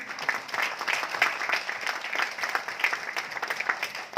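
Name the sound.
audience applause at a leadership training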